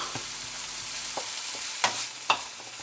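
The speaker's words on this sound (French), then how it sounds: "On continue à cuire les oignons." Onions fry in a pan for a balsamic onion topping, a continuous close sizzle broken by a few sharp utensil scrapes and stirs toward the end, with no talking.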